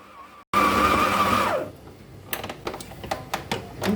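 Shortcrust tart dough of flour, cornstarch and baking powder being mixed by an electric mixer: a loud, steady whir for about a second, then it stops, followed by scattered clicks and knocks of the bowl and utensils.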